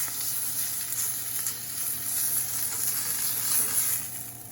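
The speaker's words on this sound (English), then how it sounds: "Steak is seared in all the sides as well." A rib eye steak sears in a hot pan with a steady, close sizzle of fat and juices that runs unbroken, with no voices over it.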